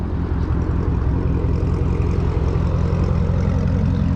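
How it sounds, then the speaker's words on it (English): A catless Dodge 392 Scat Pack idles with a steady, deep low rumble, loud and continuous throughout with no talking. "I'm gonna give y'all a quick sound of the car, how it sounds catless here."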